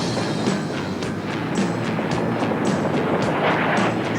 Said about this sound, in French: Une avalanche!